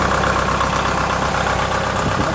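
A Kubota M5660 SU tractor engine idles steadily, a loud, close, even diesel rumble with a slight knocking texture running unbroken and with no voices.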